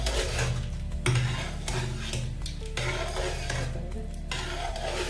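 Cooked dal for drumstick sambar being mashed with a ladle in a pot, repeated soft scraping and knocking strokes in a steady rhythm over a faint sizzle, no voices.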